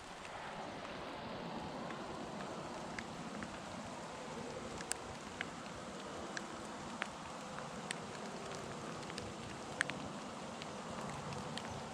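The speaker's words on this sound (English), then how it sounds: "It just started to rain." Light rain patters steadily during deer season in Pennsylvania, with scattered sharp drops ticking at irregular intervals over a soft, continuous hiss.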